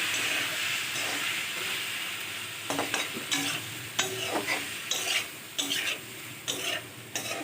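Taro stolons (kochur loti) fry in a pan under a constant hiss of hot oil, with a series of distinct scraping stirs and clanks of the spatula arriving at roughly regular intervals in the second half.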